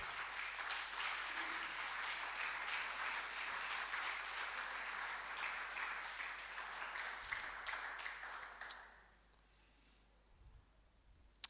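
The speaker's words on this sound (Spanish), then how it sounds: "Dale un aplauso al Señor." Church congregation applauding during a Spanish-language worship service, a dense steady roar of many hands clapping for about nine seconds before fading to near silence.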